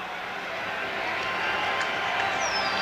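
A big baseball stadium crowd in Houston cheers the Astros on a Thursday afternoon, a steady, swelling roar that fills the whole moment, with only faint voices underneath.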